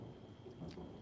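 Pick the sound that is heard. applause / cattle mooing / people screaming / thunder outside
thunder outside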